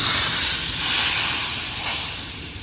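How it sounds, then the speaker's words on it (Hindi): A loud, steady sizzle and hiss as hot tempering with green and red chilli is poured into chickpeas, fading slowly over a few seconds. "तड़का जाने देते हैं इधर छोलों में"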